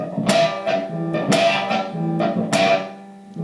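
An electric guitar plays repeated picked notes with short, thin, choked-off pinch harmonics, three sharp attacks that fade quickly, close and clear.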